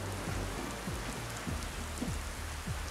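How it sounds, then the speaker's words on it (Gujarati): Heavy unseasonal rain with strong wind during a wedding ceremony in Santrampur, Mahisagar, Gujarat, a steady dense rush of rain on surfaces with no voices. "લગ્નવિધિમાં ભારે વરસાદ અને પવન ફૂંકાયો હતો"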